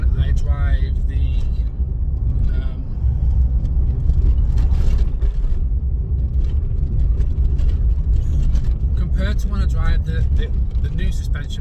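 A Volkswagen Polo with standard suspension driving on a road, a steady low engine and road rumble with intermittent rattling from tools in the back, while someone talks over it.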